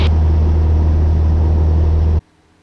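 A Cessna 172's piston engine roars steadily at full power, about 2100 RPM, through the takeoff roll, loud and close with a deep droning hum before cutting off abruptly near the end.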